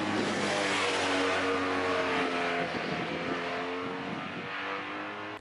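A motorcycle on Tourance Next 2 tyres accelerates hard out of a curve on a public road, its engine a loud, close, sustained rising drone with clear harmonic tones that eases slightly toward the end.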